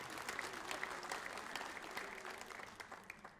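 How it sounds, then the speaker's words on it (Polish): Steady applause from a concert audience honouring mothers-in-law, many hands clapping at an even moderate level, fairly distant and continuous throughout. "wielkie, wielkie brawa jeszcze dla wszystkich teściowych"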